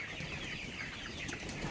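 Colour bird chickens on a farm clucking and flapping their wings close by, a busy continuous flutter with scattered clucks and no talking.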